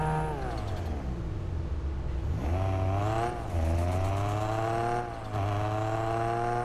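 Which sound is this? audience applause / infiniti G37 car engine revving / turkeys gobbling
infiniti G37 car engine revving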